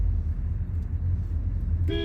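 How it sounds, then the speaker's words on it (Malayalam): A Toyota Innova car horn gives one short toot at the end, after steady low engine idle rumble from inside the vehicle. "ആ ഹോണൊന്നും അടിച്ചാ നോക്കട്ടെ ഓണടിക്ക്"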